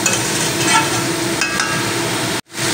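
Spice masala stir-frying in raw mustard oil for a pumpkin-stalk chorchori, a loud, dense sizzle with scraping and clinking stirs that cuts off abruptly near the end.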